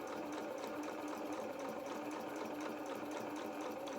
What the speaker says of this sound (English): So now, using our 1/4 inch, we're going to now mirror the cut edge of our fabric.